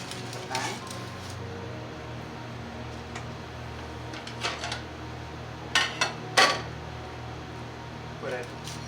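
Baked salmon in a pan is moved onto a plate, with faint clinks and scraping of cookware and a few sharper knocks of metal against dish over a low steady hum in a kitchen.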